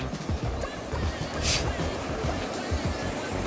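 The Keruntuan river in an Indonesian village flows fast in a loud, continuous rushing wash with low churning surges, close by and alone, with some wind buffeting.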